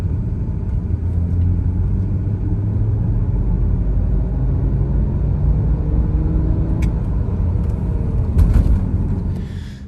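A BMW 325i E9X with an N52 engine and a faulty DISA valve, heard from inside the car as a steady low engine rumble with a faint uneven judder under load at low revs during a roll-on drive.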